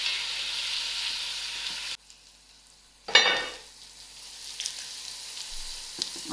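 Cabbage frying in a pan for a vegetarian biryani gives a steady hiss of sizzling, broken by a brief near-silent gap and then a sharp burst of louder sizzle as it is stirred.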